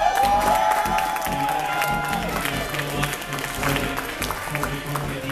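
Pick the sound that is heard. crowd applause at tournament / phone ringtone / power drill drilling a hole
crowd applause at tournament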